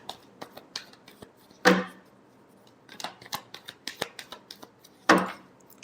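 Tarot cards are shuffled by hand in a quiet room: quick, light riffling clicks come in short bursts, broken by two sharper, louder snaps of the deck.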